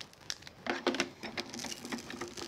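Die-cutting machine feeding glittered cardstock between cutting plates, producing a faint, crackly patter of small crunches and clicks as the sandwich rolls through.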